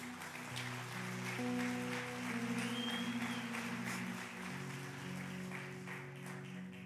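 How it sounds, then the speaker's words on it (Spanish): Applause from a church congregation during a sermon service, moderate and continuous, blended with sustained keyboard or organ chords and held notes that run underneath the whole time. "Dale un aplauso fuerte a Cristo Jesús"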